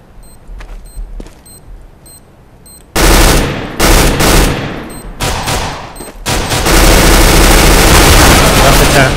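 Machine gun fire on the Dust map in Counter-Strike: Global Offensive starts after a few faint, sparse clicks and shots. It turns into loud, sustained bursts of rapid gunfire that grow denser toward the end.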